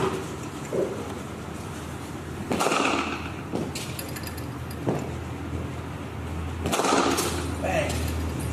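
A cricket bat strikes balls during front-foot shot practice, giving sharp cracks spaced a few seconds apart over steady outdoor noise, with someone talking at times.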